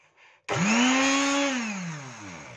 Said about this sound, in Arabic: هنضرب الزيت ضربة صغيرة كده في الخلاط الأول